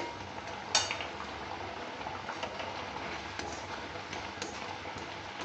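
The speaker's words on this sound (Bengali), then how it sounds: "এরকমভাবে নেড়ে নেড়ে নেড়ে নেড়ে অনবরত ফুটিয়ে নিতে হবে।" A pot of mango chutney boiling steadily, with a broad bubbling hiss and a few brief scraping clicks from stirring, close and fairly quiet throughout.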